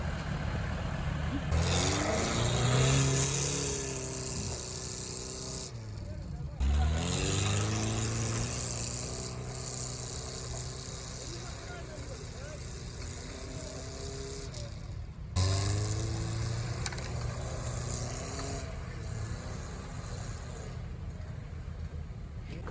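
An off-road vehicle engine revs and strains, rising and falling in long pulls while towing a car out of a puddle on a muddy off-road outing, loud and close, with a voice in the background.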